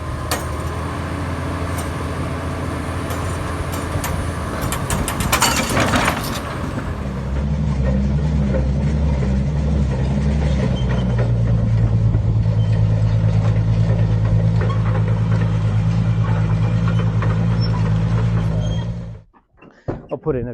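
A 1974 Kenworth W900 truck with a Cummins 903 V8 diesel runs close by, first a rough mixed rumble with a clunk, then a steady loud idle drone with a deep pulsing hum that cuts off abruptly near the end.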